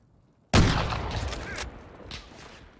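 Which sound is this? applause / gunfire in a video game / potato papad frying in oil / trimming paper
gunfire in a video game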